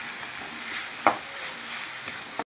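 Spices sizzling steadily as they fry in a pan with green chilli and ginger paste, with a couple of sharp scrapes as they are stirred, no voices over it.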